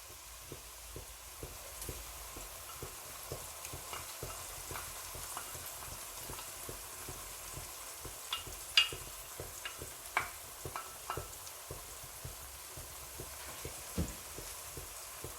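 Ginger garlic paste frying in a pan for a mash dal recipe, a faint, continuous sizzle with scattered small pops and crackles, plus occasional soft clicks of stirring, with no talking.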